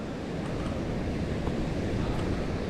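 Thornton Force waterfall on the Ingleton Waterfalls Trail, a loud, steady broadband roar of falling water with no breaks, close and unbroken throughout.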